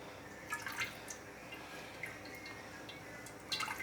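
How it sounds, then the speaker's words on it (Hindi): Cooking oil poured by the spoonful into a kadhai (wok), coming through as faint, scattered drips and light splashes over a steady low room hiss. "सबसे पहले ऑयल डाल लेते हैं"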